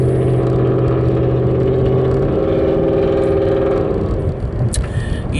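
A truck's engine labors uphill in steady, close, continuous drone with low harmonic tones that shift partway through; no one talks.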